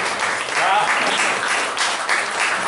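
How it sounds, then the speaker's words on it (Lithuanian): Steady, dense audience applause at a festival performance, loud and close, with a voice speaking briefly over the clapping. "Aplodismentai Mildai."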